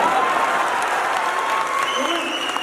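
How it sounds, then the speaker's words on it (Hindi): An audience at a Hindi poetry recital claps continuously and fairly loudly, a dense wash of hand claps with a faint murmur of the crowd underneath. "थोड़ा सा तालियों का घनत्व बढ़ाइएगा"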